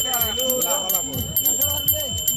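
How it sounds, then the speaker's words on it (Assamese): A small bell rings repeatedly with bright, sustained metallic tones while a person talks over it. "ঘণ্টাটো আপোনালোক বজাই দিলোঁ"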